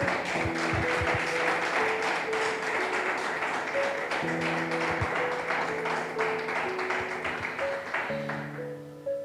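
A congregation at a church service applauds in a steady, dense wash of clapping, with sustained keyboard notes sounding underneath throughout.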